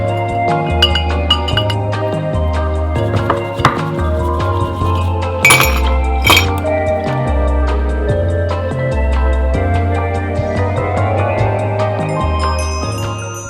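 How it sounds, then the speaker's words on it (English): Washing a matcha chawan bowl and bamboo whisk, with clinks and knocks of ceramic under running water, heard beneath steady loud background music. "I always like to wash the chawan and the whisk right away"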